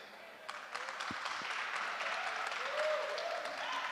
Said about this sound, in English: we're going to clap hands also